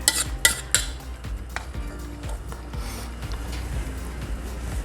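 A utensil scraping leftover beaten egg from a bowl, with a few sharp clinks at the start followed by steady, close rubbing and scraping.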